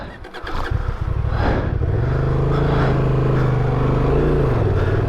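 A Honda Transalp 750 motorcycle engine on an off-road hill climb, starting with a stuttering burst then settling into a loud, close, steady throaty drone with slight pitch shifts, no talk.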